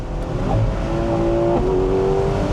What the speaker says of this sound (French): les passages de vitesse se font